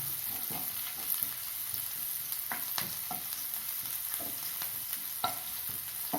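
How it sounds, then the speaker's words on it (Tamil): Finely chopped green chillies sizzle in a pan while a spatula stirs and scrapes them in a run of quick, uneven clicks over a soft, constant frying hiss, with no talking. "ரெண்டு பச்சை மிளகா பொடியாக அரிஞ்சு வச்சுருக்கேன், அதையும் சேர்த்து வதக்கணும்."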